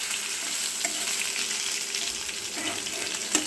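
Soaked urad dal sizzles in hot oil in a pan as a breakfast tarka, with a constant crackling hiss and occasional scraping stirs close by, no voices.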